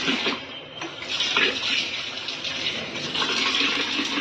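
Water runs steadily from a kitchen tap, a close splashing hiss that stays fairly even throughout.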